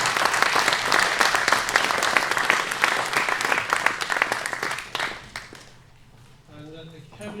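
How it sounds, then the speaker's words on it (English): A crowd applauds loudly for about five seconds, the clapping dense and sustained before fading out, followed by a voice starting to talk. "let's give them a big round of applause"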